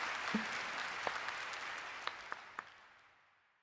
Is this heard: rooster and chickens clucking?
no